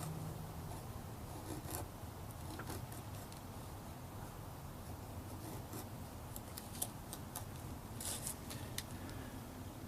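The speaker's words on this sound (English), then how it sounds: "obviously no issues there with feather sticking" A strong neck knife from Justifier Knives carves feather sticks from dry wood, giving faint, irregular rasping strokes that scrape close by in a quiet setting.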